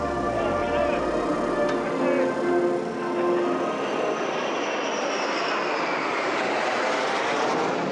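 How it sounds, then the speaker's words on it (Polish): Two fighter jets roar over the Le Mans circuit before a 24-hour motorcycle race, a loud, sustained engine rumble that sweeps past and slowly fades, with no voices. "Ciszę nad Le Mans rozerwały silniki dwóch myśliwców"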